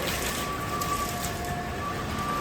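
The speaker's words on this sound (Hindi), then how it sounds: "थोड़ा देर बरसेगा वो निकल जाएगा" Heavy monsoon rain falls outside a home, a dense, steady hiss of downpour that stays loud and unbroken throughout with no talk.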